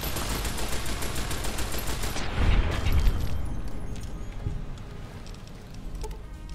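Gunfire in Fallout: New Vegas, Lonesome Road: a dense rapid burst of shots fills the first two seconds, followed by a heavy boom and a rumbling tail of scattered, fainter shots.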